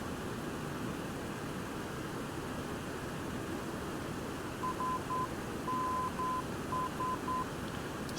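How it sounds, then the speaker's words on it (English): In the X-Plane 11 flight simulator, the SNS VOR beacon sends its Morse code identifier as a faint, evenly pitched tone in dots and dashes. It starts partway through and sits over steady cockpit hiss, with no voices. "what you hear is the Morse code is it's identifying the station."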